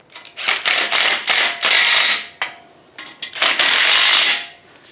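Ratchet wrench snugging down engine mount bolts on a Brooklyn Pony 40A during an engine and AOD transmission fitment test, with two bursts of rapid close clicking strokes separated by a brief pause.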